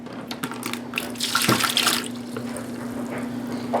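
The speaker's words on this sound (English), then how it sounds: "So the first thing I want to do is pour 1 3/4 cups of water." Water pours steadily into a measuring cup close by, a running splashy gurgle that swells midway then settles, with no one speaking.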